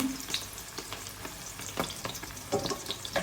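Thai basil omelette frying in a pan, egg sizzling and crackling steadily up close with scattered pops and light stirring.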